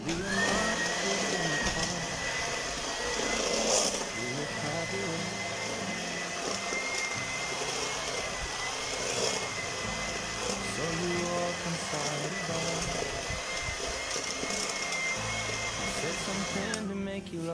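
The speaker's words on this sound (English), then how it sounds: "first thing to do is we have to cream the butter" An electric mixer creaming butter gives a steady, loud motor whine that runs almost the whole time and cuts off at the end. Talk is faint or absent.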